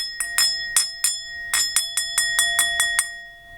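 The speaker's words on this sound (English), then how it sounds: "Now I have a kind of a gong bell or a singing bowl" A small bell is struck repeatedly at a Shinto shrine offering, a dozen or so bright clear strikes in an uneven rhythm, each ringing with a sustained high tone that barely decays between hits.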